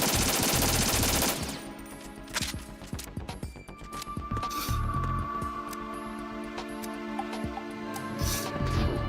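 An M4 rifle fires in the video game Metal Gear Solid 2, a loud opening burst followed by repeated sharp shots and short automatic volleys at uneven intervals over a faint background tone.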